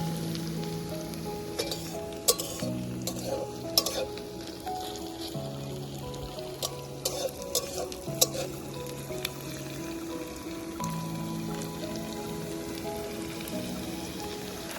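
Chopped onion sizzling steadily with whole spices in a hot wok, a continuous close crackle and hiss, with occasional spatula scrapes and light clinks and no one talking.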